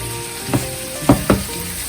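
Chicken liver spread ingredients frying in a pan while being stirred, with a steady sizzle and three brief scraping stirs.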